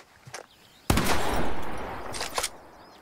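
A single sharp gunshot from The Quarry video game bursts out loud and close, then trails off in a rumbling decay over a couple of seconds.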